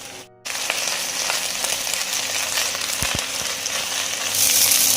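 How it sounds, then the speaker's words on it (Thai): Chaya leaves stir-fry in hot oil, a loud continuous sizzle with light stirring clicks and a few soft knocks, up close throughout after a brief gap at the start; the hiss swells slightly toward the end. "แล้วก็ทยอยใส่ใบชายาลงไปผัดครับ"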